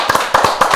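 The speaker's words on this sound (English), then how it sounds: "Let's give a big hand clap to Briahna." A few people clap briefly for an arriving guest on a talk show, several short bursts of hand claps in about a second, close and fairly loud with no voices.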